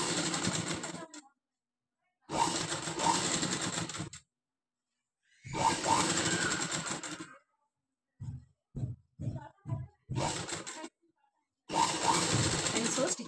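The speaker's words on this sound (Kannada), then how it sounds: "ಫ್ರಿಲ್ಸು ಸ್ಟಿಚ್ ಮೇಲೆ ಬರ್ದೇ ಇರೋ ಥರ ನೋಡ್ಕೊಂಡು ಸ್ಟಿಚ್ ಹಾಕೊಳ್ಳಿ" A sewing machine stitches frills in loud sustained runs, stopping and starting with silent pauses and a stretch of short stuttering bursts between them.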